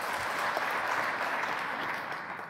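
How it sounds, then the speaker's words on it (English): An audience claps at a computer vision conference lecture, a steady, dense wash of applause filling the whole stretch without pause or speech. "Now please clap if the right image is fake."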